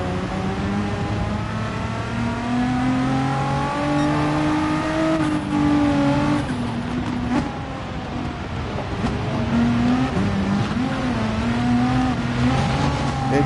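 A Nissan GT-R engine in GT Sport drones steadily and loudly, its pitch climbing and dropping through gear changes over the whole stretch, with no talk over it.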